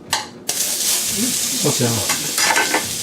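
Large slices of ginger stir-fry in a wok for Cantonese spicy green beans, giving a loud, close, continuous sizzle with stirring scrapes and a brief spoken word near the end.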